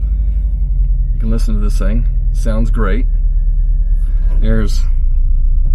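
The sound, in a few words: 1989 Volkswagen Vanagon engine while driving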